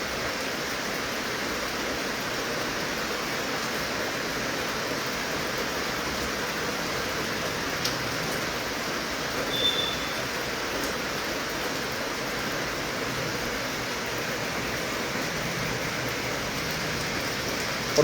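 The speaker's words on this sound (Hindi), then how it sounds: "ये आप देखिए कितनी तेज़ बारिश हो रही है" Heavy rain pours down in Jammu, an even, dense hiss of drops drumming on surfaces that holds steady and loud throughout, with no talking.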